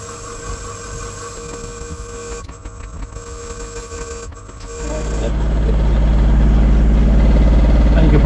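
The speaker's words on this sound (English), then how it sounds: "Probably hear I've got the lathe turned up to 1070 RPM. It's kind of making everything rattle everywhere." A wood lathe turning a beech and walnut wedding cake stand at 1070 RPM, a steady loud mechanical drone that swells into a heavy low rumble and rattle midway and holds there, with no talking.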